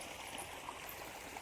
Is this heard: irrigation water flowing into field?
yes